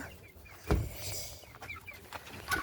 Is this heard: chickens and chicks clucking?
yes